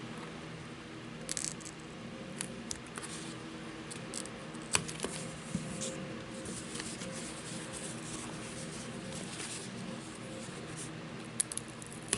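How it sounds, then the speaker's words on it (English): Small detail scissors snip craft material for a gingerbread man ornament, giving faint, close, sparse clicks and cuts scattered through quiet room tone. "I'm going to come in with these detail scissors and just snip this off."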